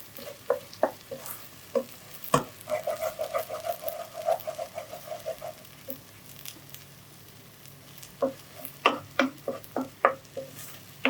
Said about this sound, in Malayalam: മസാല നമ്മൾ ഈ ബട്ടറിനകത്ത് നന്നായിട്ട് വഴറ്റിയെടുക്കണം